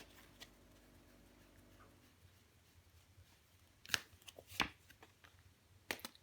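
Tarot cards being shuffled and laid out on a table, a soft card riffle early on, then a few sharp, close slaps and flicks as cards are placed down, with no talking.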